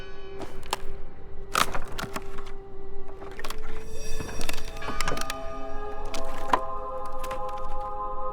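Wooden boards break in the game Draugen: a series of sharp cracks and heavy thunks spread unevenly over several seconds, some loud and close, with ringing tones lingering between impacts.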